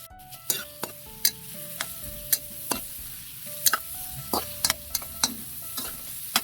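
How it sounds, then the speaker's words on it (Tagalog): Ginger, onion, garlic and tomato sauté in a hot pan, a constant close sizzle punctuated by frequent sharp metallic clinks of a spatula stirring and scraping, with no speech. "Gigisa na tayo. Lagyan tayo ng luya, sibuyas, bawang, kamatis"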